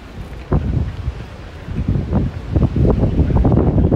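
Outdoor wind buffets a microphone in gusts on a breezy day after a storm, with broadband rumbling swells and rustle rising and falling through the stretch, loud and close, with no talk.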